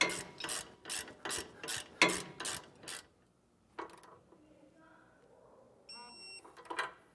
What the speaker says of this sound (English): grab your 18mm socket and then torque it to spec